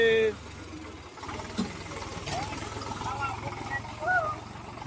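A loaded farm tractor's engine runs steadily nearby, a low, even rumble filling the whole stretch, with faint background voices and small clanks over it.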